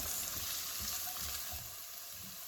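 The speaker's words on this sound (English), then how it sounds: "So I'm going to just turn the heat down again. Let this go sizzling. I'm going to also add now the garlic." Garlic sizzles in a hot pan with runner beans over lowered heat, a steady close crackling fry with soft low stirring bumps beneath it.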